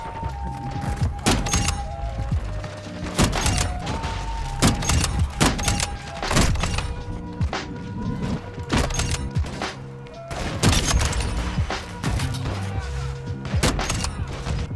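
Gunfire in an online shooter game, sharp bursts and single shots in uneven clusters across the clip, loud and punchy with mechanical clunks between them and a player's voice at times.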